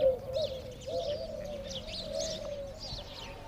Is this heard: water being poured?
no